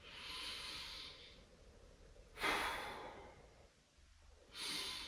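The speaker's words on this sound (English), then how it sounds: "deep breathing exercises like that" Slow, deep breathing exercise: quiet, drawn-out breaths through the nose and mouth, with a long soft exhale, a sharper breath in the middle, and another starting near the end.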